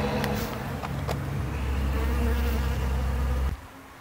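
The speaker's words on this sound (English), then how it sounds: "we'll go take a look at both the bees and the hive that has the queen in it" Honey bees buzzing near a hive as they are gathered into a double-bucket bee extraction vacuum: a steady, loud insect drone with a low mechanical hum beneath, cutting off sharply near the end.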